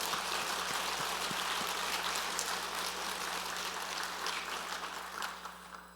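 A church congregation at a New Year thanksgiving service applauds steadily, a dense crackle of many hands clapping at an even level before easing slightly.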